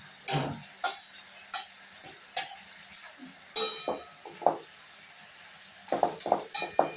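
Spinach chochchori with rohu fish head cooking in a pan: intermittent stirring scrapes and clinks of a utensil against the pan over a faint background sizzle, close and fairly loud in bursts.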